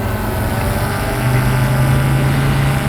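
A DJI Mavic 2 Pro drone climbing at full throttle gives off a loud, steady, high-pitched whine with a strong tonal hum, sustained and close throughout with no talking.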